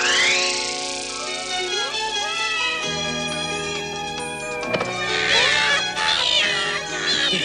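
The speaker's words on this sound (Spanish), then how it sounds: "¿Pero qué demonios están haciendo tus gatitos?" Cartoon kittens meow in a rapid string of high, wavering cries, several overlapping and rising and falling in pitch, loud and close throughout.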